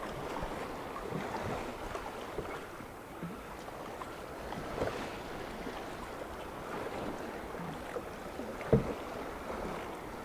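A lone kayak is rowed through breaking waves over a sandbar in Carmarthen Bay, with a constant rushing wash and wind buffeting the microphone and one sharper splash near the end.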